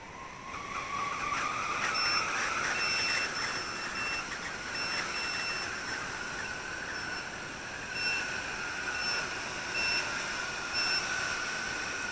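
SPCMaker 110NG micro drone with soft-mounted motors struggling on takeoff, a steady high-pitched whine rising in pitch over the first seconds, then holding with faint beeping tones throughout, close and continuous.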